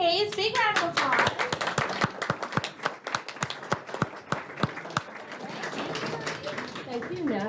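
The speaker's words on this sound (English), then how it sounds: "Big round of applause" An audience at a county library evening event claps, a burst of sharp, fairly close hand claps that thins into scattered claps, with voices talking over the start and end.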